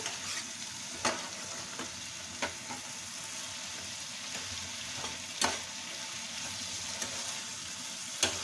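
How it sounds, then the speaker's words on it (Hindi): Spring roll stuffing stir-fried in a pan gives a steady, soft sizzle with periodic sharp scrapes and clicks of a spatula against the pan, close and alone without talk. "अब हम थोड़ी देर से ऐसे ही फ्राई करेंगे।"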